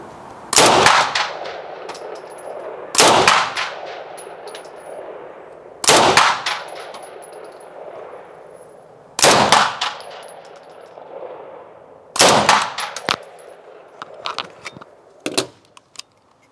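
Sterling Mk.4 open-bolt submachine gun firing live rounds, loud close shots in five short separate bursts spaced a few seconds apart, each followed by a brief ringing decay, with no talking.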